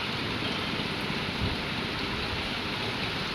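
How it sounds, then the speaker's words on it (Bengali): Steady rain pours outside a window, a dense continuous hiss at a constant level with no voices over it. "বৃষ্টি হচ্ছে।"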